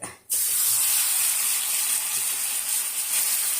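Curry leaves hit hot oil in a home kitchen pan during Tamil-style cooking. A sudden loud, steady sizzling hiss starts and keeps going at an even level, close up with no talk over it.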